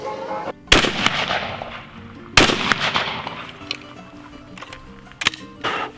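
Shotgun fired with a reloaded hull carrying 1 ounce of shot: a sharp, loud report near the start, a second blast around the middle and a third near the end, each with a ringing decay and clatter between.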